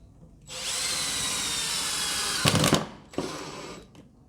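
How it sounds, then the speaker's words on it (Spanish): A power drill bores a countersunk screw hole in wood, its motor whining steadily for about two seconds before the bit bites with a rough grinding burst, then a brief second run. "ya podemos perforar el siguiente. Lo estamos haciendo con avellanado para que el tornillo nos quede completamente embutido"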